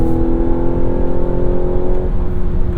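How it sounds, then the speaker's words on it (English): Piped-in engine sound fills the cabin of a 2024 Mazda CX-90 as a loud, steady, smooth drone with a constant tone, heard alone without talking. "Piped in engine noise?"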